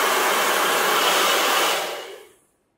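Hair dryer blowing steady hot air onto a vinyl e-scooter wrap sticker, a loud continuous whoosh that runs for about two seconds, then winds down and cuts to silence.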